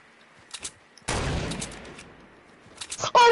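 Gunfire in the Fortnite video game during a sniper shootout: a sudden loud burst of rapid shots lasting about two seconds, with a few scattered single cracks before and after.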